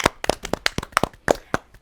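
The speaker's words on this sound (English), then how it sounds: "Round of applause." A small group claps a short round, about a dozen sharp, distinct hand claps in quick uneven rhythm, close and clear with no talk.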